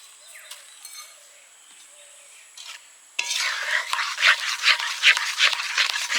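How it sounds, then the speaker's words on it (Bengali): Ground cumin, coriander, fennel and dry chili powder being stirred into fried whole spices for phuchka, a quiet start with faint scraping, then a run of close, brisk scraping and clinking strokes. "ভালো করে মিশিয়ে নেব"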